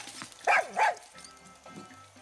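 A dog in the video game Far Cry 6 gives two quick, close barks over a quiet game background with soft ambient sounds.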